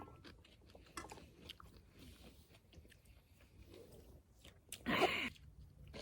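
Kimchi being chewed during a meal at a guesthouse in Buyeo, soft close chewing with one louder crunchy bite near the end, amid quiet background sounds.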